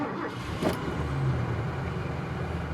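A 45-year-old car with California emissions equipment idles roughly, a steady low engine drone with uneven pulsing, close by and without talk.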